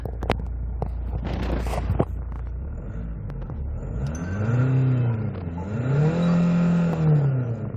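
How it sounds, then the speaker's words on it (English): A 2006 Hyundai Santa Fe MLX diesel engine idling then revving up twice in rising and falling swells, close and fairly loud, with some knocking at the start. "Sound of the engine is really smooth. The RPM is going very good."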